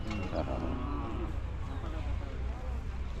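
Hallikar bulls low and moo close by in a village setting, one deep, drawn-out call sounding early amid a steady rumbling farmyard background.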